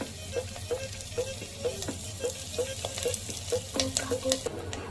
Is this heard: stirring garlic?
yes